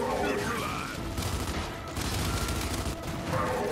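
Rifle fire in Gears 5 comes as sustained rattling automatic bursts with short pauses between them, mixed with dense game noise and brief voice sounds.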